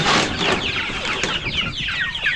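Chickens cluck and squawk inside a small chicken house, several close, lively overlapping calls filling the space without any human voices.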